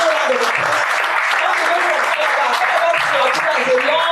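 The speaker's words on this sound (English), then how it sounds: "Please, another round of applause." A conference audience applauds an economics professor from the University of Calabar as he is introduced, a steady dense roar of clapping sustained throughout with some voices mixed in.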